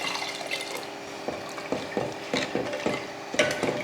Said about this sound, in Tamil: தண்ணியை ஊற்றி கலந்து விடுவோம்